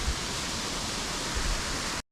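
Rushing water from a waterfall spilling into a reservoir at the Anusuya temple, a steady, broad hiss that stays even and fairly loud before cutting off sharply.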